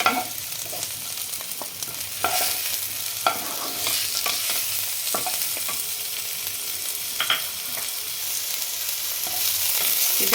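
Onion, garlic and tomatoes fry in a pan with a steady close sizzle, broken by sharp scraping stirs of a spatula through the mixture, no voices.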